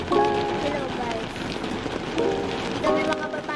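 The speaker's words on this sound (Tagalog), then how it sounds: "Lakas ng ulan guys." Heavy rain pours steadily in a dense, continuous hiss, loud and close, with a faint melodic tone rising in and out over it.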